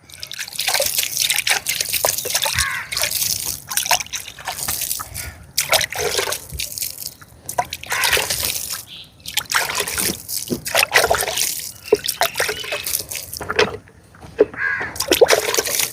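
Water is poured from a drum onto peanut plants, giving irregular splashing, dripping and trickling bursts with brief pauses between them, close and fairly loud.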